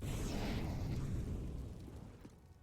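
Molotov fires burst and roar in a CS:GO-style team match on the map Train, a loud broad whooshing blaze that swells at once then slowly fades over a couple of seconds, with no voices.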